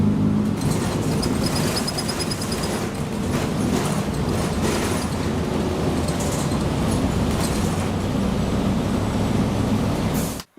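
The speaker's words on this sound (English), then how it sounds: "everything was built out of metal and it rattles a lot" Inside a metal-built Gillig transit bus on the move, a constant loud road and engine rumble carries sharp, scattered rattles and clatters from loose interior panels, with no talking.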